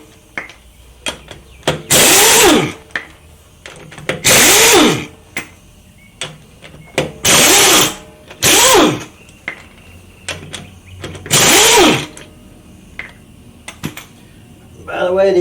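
Impact wrench on Camaro wheel lug nuts: four loud, close bursts of whirring hammering, each about a second long, separated by clicks and handling noises.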